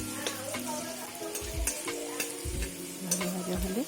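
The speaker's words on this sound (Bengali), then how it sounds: "তেল দিয়ে আবার আলু দিলাম, আলুটা একটু ভাজা ভাজা হবে, লাল লাল মতো।" Potatoes frying in oil in a wok for chow mein, heard as a close, steady sizzle with rhythmic scraping stirs of a spatula against the wok, without talking.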